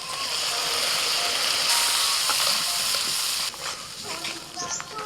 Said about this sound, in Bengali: সর্ষে বাটাটা দেওয়ার পরে 1 মিনিট এইভাবে একটু নাড়াচাড়া করে নিয়েছি